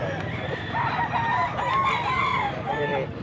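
A rooster crows with a long, wavering call, with other fowl clucking around it in a busy, noisy rooster auction.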